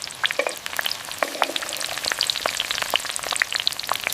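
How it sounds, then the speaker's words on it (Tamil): Small shallots and garlic cloves sautéed in oil tempered with mustard seeds, urad dal and fenugreek, giving a loud, steady crackling sizzle with scattered pops throughout and no talking. "நிறைய சின்ன வெங்காயம், பூண்டு பற்களை சேர்த்து பொன்னிறமா வதக்குங்க."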